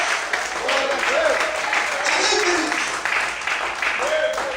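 A church congregation claps and cheers in praise, a steady dense wash of applause with voices calling out over it for the whole stretch.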